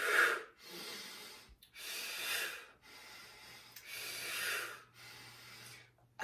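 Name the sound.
exercise breathing during upright rows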